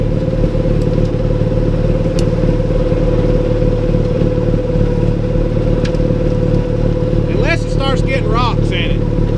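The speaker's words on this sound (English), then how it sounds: "I like listening to the snowblower anyway. It's got a soothing sound to it." A snowblower clearing snow on a dirt road runs in a loud, steady, droning engine roar that dominates throughout, with a few sharp rattles and a brief chirping sound near the end.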